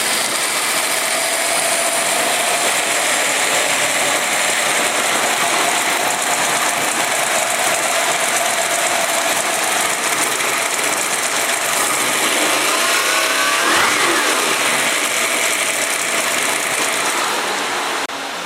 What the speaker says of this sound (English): your 427 Ford stroker. Ran perfect. Let's start it up. Starts right up